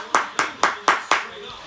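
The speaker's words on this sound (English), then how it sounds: "Can you clap any louder?" Five sharp hand claps ring out at an even, steady pace, close and loud, with brief decays between them.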